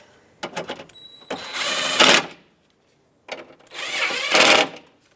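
A tool runs in two bursts to snug up two bolts on a 2003-09 Toyota 4Runner window regulator, each a close, loud whirring buzz lasting about a second with a pause between them.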